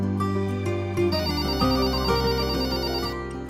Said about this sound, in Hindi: इस वक्त लैंडलाइन पे कौन फोन कर सकता है?